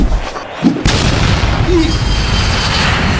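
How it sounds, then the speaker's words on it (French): A firecracker going off in a video game, one sharp booming burst near the start followed by a sustained rumbling wash of game noise, loud and close. "le pétard que je viens de mettre"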